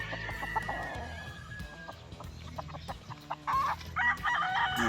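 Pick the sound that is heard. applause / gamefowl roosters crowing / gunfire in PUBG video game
gamefowl roosters crowing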